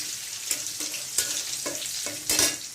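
Spice paste stirring into cumin seeds roasted in hot oil, a steady close sizzle broken by four or five scraping spatula strokes at an uneven rhythm, with no voices.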